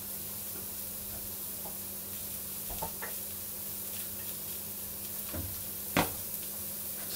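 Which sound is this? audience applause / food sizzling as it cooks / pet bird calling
food sizzling as it cooks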